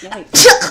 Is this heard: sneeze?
yes